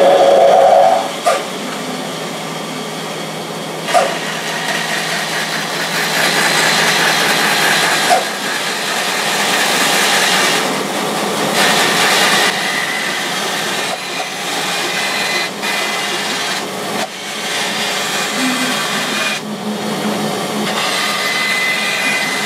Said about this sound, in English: I'm going to use my band saw